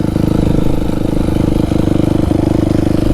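A dirt bike engine revving loudly and close in a backyard, a continuous rough pulsing drone that holds steady throughout with no talk.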